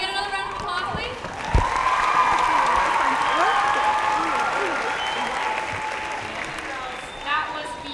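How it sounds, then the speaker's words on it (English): Conference audience applauding a speaker, a full, steady wash of many hands clapping at close range, swelling early and sustained for several seconds with faint voices and a few cheers mixed in. "Can we get another round of applause"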